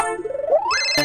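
A mobile phone ringtone chimes as a short rising electronic melody, fairly close and clear, ending in a bright burst of tones, with no voices over it.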